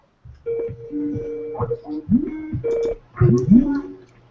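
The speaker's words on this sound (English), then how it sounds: "Wow, somebody's ringing you." An incoming call ringtone plays from a computer for an online chat program, a repeating electronic tone pattern over a few seconds, with people talking over it.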